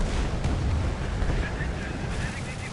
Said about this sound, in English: Oh boy, I'm unloading my bombs on the base.